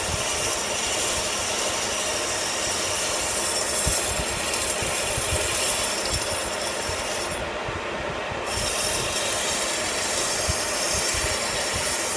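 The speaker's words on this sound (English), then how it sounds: "Just an emery cloth, 60 grit." A lathe turns a 1018 cold rolled steel bend die while 60 grit emery cloth is pressed against it, giving a steady, loud, continuous abrasive hiss with an underlying machine rumble and no talking.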